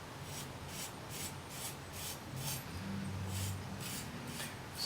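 A knife blade is drawn in rhythmic alternating strokes across a scrubby pad during sharpening, making soft, quiet rasping rubs repeated about ten times at an even pace.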